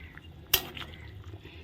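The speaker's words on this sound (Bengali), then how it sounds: "এখন মাথাগুলো দেওয়ার পর ভালো করে নেড়ে নিচ্ছি দেখো" Heads of a large boal fish are stirred in a cooking pot, giving a single quiet metallic clink from the utensil against the pot amid soft, low kitchen background.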